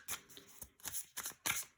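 Tarot cards are shuffled up close in quick bursts, five or six short riffling swishes separated by brief pauses, quiet and alone without speech.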